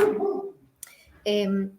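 A small pet dog barking indoors at home, a few short yips and whimpers near the mic, separated by brief pauses.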